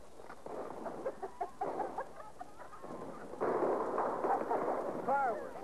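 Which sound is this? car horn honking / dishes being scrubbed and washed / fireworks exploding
fireworks exploding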